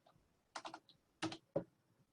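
A few scattered keystrokes on a computer keyboard typing a command, quiet and close, in two short clusters followed by a single tap, with near silence between.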